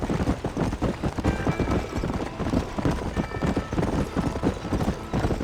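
Horse hooves gallop in Red Dead Redemption, a steady rapid clip-clop that fills the scene at close range with an occasional whinny, loud and continuous throughout.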